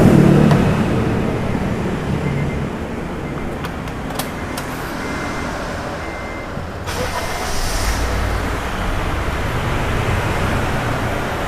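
Idling engine of a used car just after starting, a steady even drone with low rumble throughout, fairly loud and close, with no talk over it.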